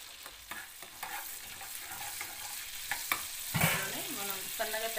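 Shahjeera fries in melted butter in a pan, a quiet steady sizzle broken by light scattered pops and a few spoon scrapes near the end.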